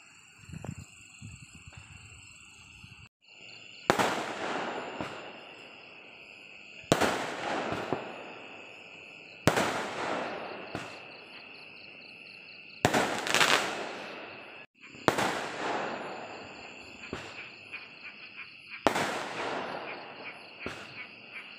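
Loud firecrackers burst one after another at uneven intervals, each sharp crack trailing off in a crackling echo.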